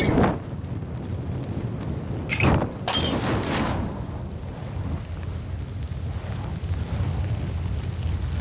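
A grenade explodes in Call of Duty Modern Warfare gameplay: a couple of loud, close blasts land in quick succession around the two-to-three-second mark, standing out over a steady rumbling game backdrop.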